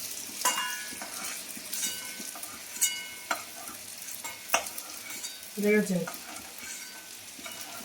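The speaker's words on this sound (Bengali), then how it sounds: "পনিরগুলো আমার ভালো করে ভাজা হয়ে গেছে," Paneer cubes fry in hot oil in a pan under repeated stirring, giving a continuous close sizzle broken by clinking strokes. A voice speaks briefly near the end.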